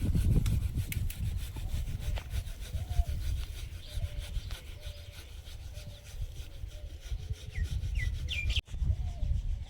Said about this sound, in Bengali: ভিনিগার দিয়ে সর্ষেটা বেটে নেব, একটু জল ব্যবহার করব না।